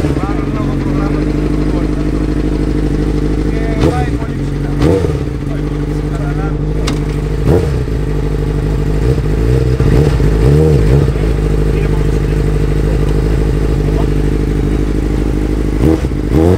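A dirt formula car engine on an off-road setting, loud and close, idling roughly then blipped with the throttle in repeated revs, harmonic drone rising and falling with clattering mechanical noise throughout.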